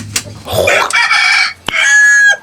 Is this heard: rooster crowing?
yes